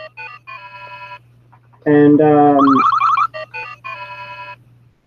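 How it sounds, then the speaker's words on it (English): A mobile phone ringtone sounds mid-clip, a loud bright melodic tune of rising tones lasting about a second, amid other electronic chimes from a retro ColecoVision game session, with a low steady hum underneath and a brief spoken word. "So that's my phone."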